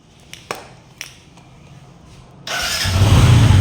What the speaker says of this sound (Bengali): Self start.